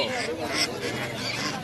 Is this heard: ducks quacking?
yes